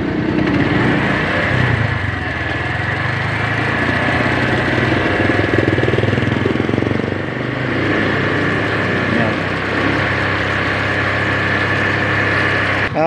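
A Keeway RKS 152 motorcycle engine runs loudly and steadily close by, a constant droning rumble with a slight change in pitch partway through.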